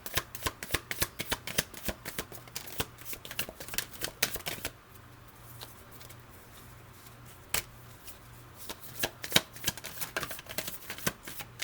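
Tarot cards shuffled continuously, a dense run of quick riffling clicks and snaps for several seconds, then a quieter pause and a few more scattered card flicks close by, with no talking.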